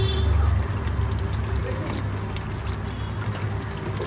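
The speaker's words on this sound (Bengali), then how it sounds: "এরপর আমি ওপর দিয়ে একদম অল্প করে একটু কেওড়া জল দিয়ে দেব।" Kewra water is poured in a thin, gentle trickle over cooking fish, a soft liquid splash heard up close for a few seconds with a low background hum.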